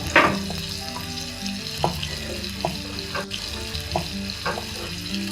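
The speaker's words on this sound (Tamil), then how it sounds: "இந்த சிக்கன் இப்போ வேகட்டும் இப்போ வந்து இந்த வெங்காயமும் இதுவும் நல்லா வதங்கி வரட்டும்" Chicken with onions and masala fries in a pan for a Palakkad-style chicken fry, a moderate steady sizzle with occasional clinks and stirring knocks, close by and without talk.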